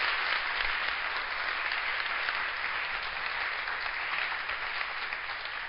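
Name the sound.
audience applause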